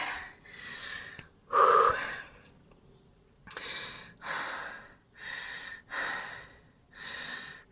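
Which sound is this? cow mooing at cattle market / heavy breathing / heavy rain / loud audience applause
heavy breathing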